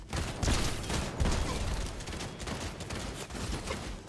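Rapid bursts of gunfire from the video game Fortnite crackle almost continuously, dense and loud, with repeated shots overlapping across the whole stretch and no talking.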